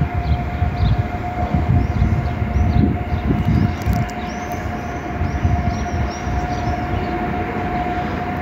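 A Polish Intercity or Polregio train arriving at Opole Główne station rumbles steadily with brake squeals and a high whining tone, loud and continuous, no talking.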